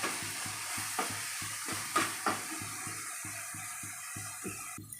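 Oil sizzling in a pan while fish curry is cooked, with steady rhythmic stirring scrapes and a continuous frying hiss up close.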